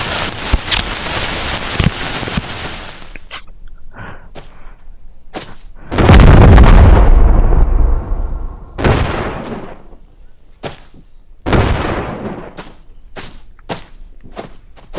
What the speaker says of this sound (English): I'm gonna stick it dynamite on here. But a couple sticky dynamite on here. Causing one of the most epic explosions